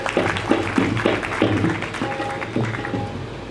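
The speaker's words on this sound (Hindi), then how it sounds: "उनके लिए एक बार तालियां।" Applause from the audience at a Shrimad Bhagavat Katha gathering in Ichalkaranji, a brief burst of many hands clapping, moderately loud, with voices mixed in.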